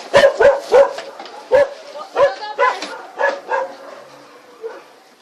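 Dog barking repeatedly in sharp, close yips and bow-wows during a rescue of eleven puppies, several quick barks in bursts then trailing off, with a person talking faintly underneath.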